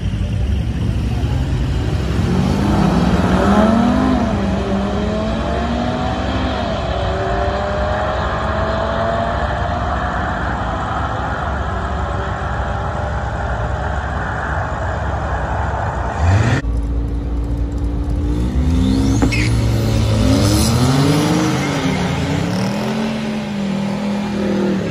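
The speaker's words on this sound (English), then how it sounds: "9 second Cummins diesel." A Cummins diesel truck engine on a race track revs and climbs in pitch, winding up loud and steady through repeated gear changes, with a second run of rising engine tones after a sharp break.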